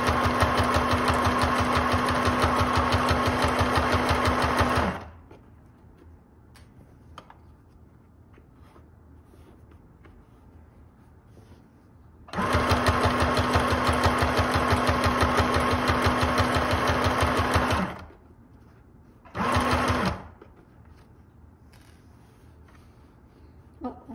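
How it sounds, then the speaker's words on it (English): A Janome sewing machine runs in steady, fast stitching bursts: a long run, a pause, another long run, then a short final burst, close and loud. "I don't know if it's supposed to be a kid sewing machine, but it is a Janome."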